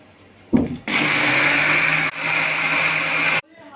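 An electric mixer beats sugar, oil and orange juice for an orange cake: a brief knock, then a loud, steady motor whir lasting about two and a half seconds with a short dip midway before cutting off.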